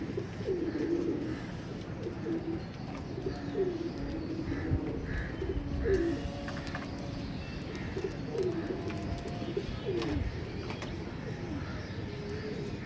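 Pigeons coo repeatedly in soft, throaty bursts at a relaxed rhythm, close by, over a constant low outdoor rumble with faint chirps.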